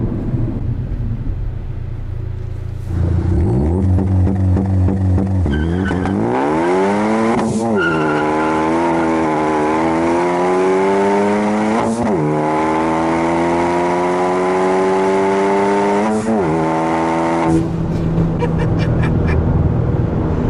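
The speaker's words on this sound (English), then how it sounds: "this Cobb exhaust gets loud" A loud Cobb aftermarket exhaust on a 2015 Ford Focus ST roars as the engine climbs through several gears, each upshift dropping the pitch before it rises again.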